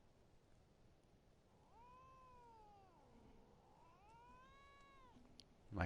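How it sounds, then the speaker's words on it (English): A cat gives two drawn-out, wavering meows, quiet and fairly close, over a faint background hiss, ending with a short loud knock. "My cat."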